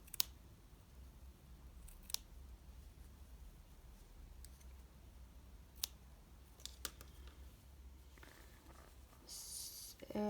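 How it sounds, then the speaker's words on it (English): Scissors snip scrap yarn from a tubular cast-on for knit 1, purl 1 ribbing, giving a few faint, scattered close clicks over quiet room hiss. "So I will continue this cutting the scrap yarn"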